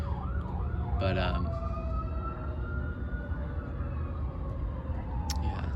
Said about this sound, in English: There's the sirens in the background.